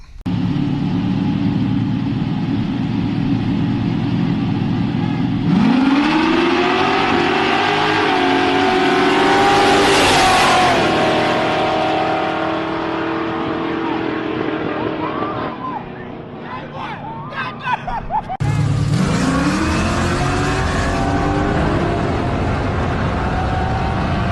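Street race cars, including a Cutlass, launch and accelerate hard in two separate runs, engines climbing through rising revs close by, with crowd chatter underneath.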